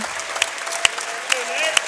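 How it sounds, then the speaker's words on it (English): Standing ovation from a light Tuesday-night crowd at a boys' high school basketball game, Batavia at Wilmington: steady clapping and cheering, with a few sharp louder claps or whistles standing out through the brief stretch. "And he's getting a standing ovation from the crowd"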